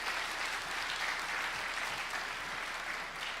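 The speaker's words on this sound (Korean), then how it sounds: "우리 큰 박수로 모십니다." A church congregation applauds to welcome a visiting pastor to the pulpit, a steady, even wash of clapping that holds for several seconds at moderate level with no voices on top.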